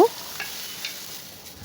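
Taro leaf stalks drop into a hot pan of oil tempered with panch phoron, giving a sharp initial hit that settles into a steady, close sizzle and frying hiss with no voices.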